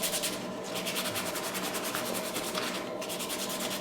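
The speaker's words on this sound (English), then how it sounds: "I just use the coarse stuff like this to break down the biggest parts, and then I'll get to the finer paper here in a bit." Coarse sandpaper rubs by hand over a pistol's wooden grips in steady back-and-forth strokes, close and continuous with a rhythmic scratchy texture and no talking.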